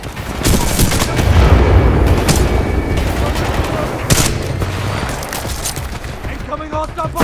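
Rapid gunfire and explosions fill a Titanfall 2 multiplayer match, dense overlapping shots and booms at close range, with a game voice speaking over the battle.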